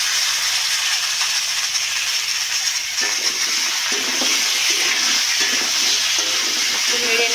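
Pumpkin tipped into hot oil with dried red chilli, bay leaf and cumin hisses in a loud, continuous sizzle, with soft stirring and scraping over it, close up.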